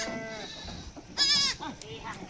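A short, wavering goat bleat rises clearly amid buyers' chatter and other faint bleats at a livestock sale, close by.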